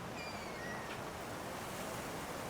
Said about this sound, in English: on the beautiful ocean.